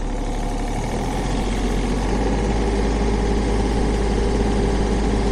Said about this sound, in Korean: 그 RPM을 조금 더 올려보고 소리 더 확인해 보도록 하겠습니다